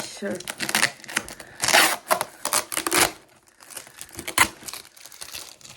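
Crinkly rustling and tearing of packaging in bursts as a parcel is opened, close up, with scattered crackles and a French-speaking voice talking intermittently.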